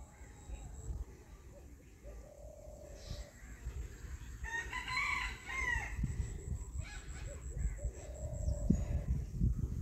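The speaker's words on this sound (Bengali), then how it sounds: "কি সুন্দর পাখি ডাকতেছে।" Village birds calling, including a rooster crowing and hens clucking at a moderate distance, heard over a low rumble of wind and movement outdoors, with some talking.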